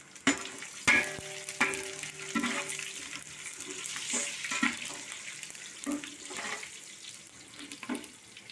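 Masala spice mix frying in ghee in a pan for Thalassery dum biryani, giving a steady close sizzle broken by sharp knocks and scrapes of stirring, with no voices.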